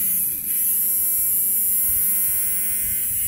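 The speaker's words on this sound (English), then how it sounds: "let's see if I can get the motor running" The small electric motor inside a vintage 1960s Rover toy coin bank made in Japan runs with a steady, thin buzzing hum and a high whine, close and continuous after a brief dip at the start.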